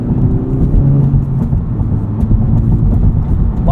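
Engine of a 2023 Honda Civic Type R with a 2-liter turbo and manual gearbox accelerating, a loud, steady low drone heard from inside the car with no talking.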